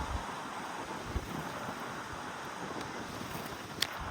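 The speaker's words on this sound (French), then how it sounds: "il y a un peu de vent malheureusement" Wind gusts buffet a microphone outdoors in New York, producing a continuous low, rushing rumble with occasional soft thumps and no talking.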